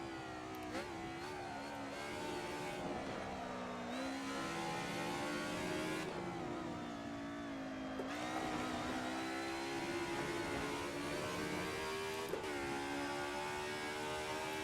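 A 1990s DTM race car in a racing sim at the A1-Ring screams through the revs, its engine note climbing through the gears with sharp drops at each shift, loud and continuous without speech.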